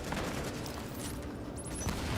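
A weapon being unloaded in The Division video game, rapid gunfire crackling continuously throughout, fairly close with dense overlapping shots.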